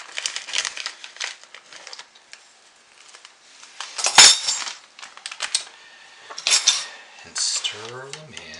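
A utensil stirs poppy seeds into thick soap batter inside a container, making irregular scraping, clinking and rustling bursts with quiet gaps between them. A sharp knock lands midway, and a brief voice is heard near the end.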